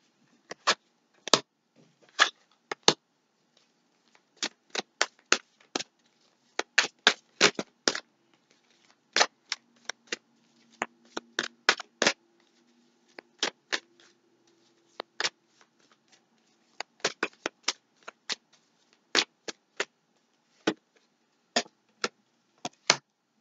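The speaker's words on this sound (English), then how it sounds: "Let's see how terrible I am with shuffling right now." Playing cards are shuffled in repeated quick bursts of riffling snaps, close and crisp, separated by short silent gaps, with a faint low murmur briefly in the middle.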